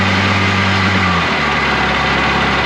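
A two-stroke jet ski engine idles steadily close by in a garage, a droning buzz with low harmonics that shifts slightly partway through and keeps running.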